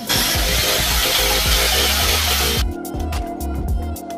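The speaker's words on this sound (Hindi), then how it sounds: "अभी हम सोलर पैनल की वायर को इन्वर्टर के पास पहुँचाने के लिए दीवार के अंदर ड्रिल कर लेते हैं।" Drilling into a house wall to route solar panel wiring to an inverter: a loud, harsh rasping drill with rhythmic pulses grinds steadily, then its tone shifts partway through to a choppier, thinner grind, with no talking.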